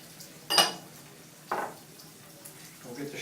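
Raw shrimp with the tails left on are dropped into hot oil in a pan, giving two short, sharp sizzling bursts about a second apart and then a softer crackle, fairly quiet, with kitchen clatter around them.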